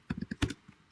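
Several quick keystrokes clatter on a computer keyboard while a Python virtual environment install command is entered, a burst of close, crisp taps with short gaps, then a final tap at the end.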